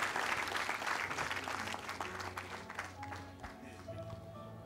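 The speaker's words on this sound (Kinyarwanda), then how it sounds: "amashyi menshi cyane aturutse ku miryango" Wedding guests at a Rwandan introduction and dowry ceremony clap in a dense, steady burst of applause that slowly thins out, with voices talking over it.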